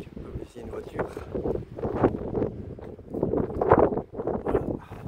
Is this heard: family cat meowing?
no